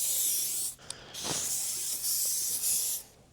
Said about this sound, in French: et puis la bombe à l'envers.